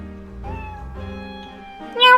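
Eve the cat meows in the Professor Layton vs. Phoenix Wright: Ace Attorney video game, a few short tonal game-audio calls over soft music, with a brighter, louder mew near the end.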